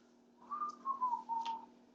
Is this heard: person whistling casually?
yes